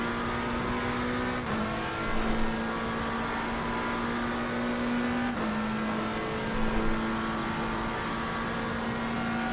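A racing car in a video game accelerates through its gears, a steady loud engine drone with tones that climb and then drop twice at gear shifts, with no talk over it.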